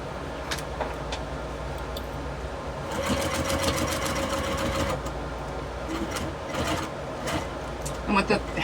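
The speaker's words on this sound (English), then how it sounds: "I'm just going to sew down one side and the other" Sewing machine stitching canvas for a sling bag, with a mid-length steady motor whir and rapid needle chatter over a constant background hum, and a voice talking nearby.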